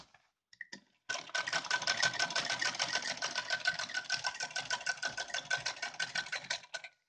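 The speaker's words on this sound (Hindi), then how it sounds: "ऐसा दूसरा साइड भी सिल देंगे" A sewing machine stitches lace onto a dhoti. After a couple of quiet taps, a fast, even mechanical clatter runs for about six seconds before stopping. It sounds close and moderately quiet, with no voices.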